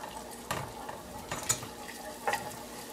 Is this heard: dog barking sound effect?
no